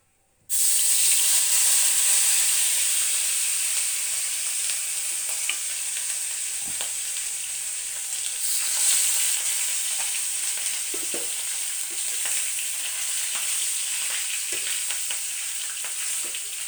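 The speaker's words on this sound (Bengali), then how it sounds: "এখন পাংলাস মাছ ভাজব" Pangas fish fries in a pan at home, starting abruptly after a brief quiet moment into a strong, steady, hissing sizzle with occasional crackles and small knocks of the utensil.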